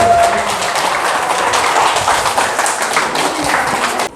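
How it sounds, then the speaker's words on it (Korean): Applause from a seated audience at a dance party fan-meeting festival, a dense, steady patter of many hands clapping close by for about four seconds with no talk over it. "멀리서 오셨으니 박수 한번 주세요"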